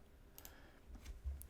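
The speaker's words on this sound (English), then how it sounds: "Let me just click on to something else." A handful of soft, sharp mouse clicks, spaced irregularly, sound close but quiet against a low steady room hum.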